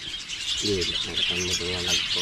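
Caged pet parakeets chirp in a run of short, bright, repeated calls over a steady background hiss, fairly close and moderately loud.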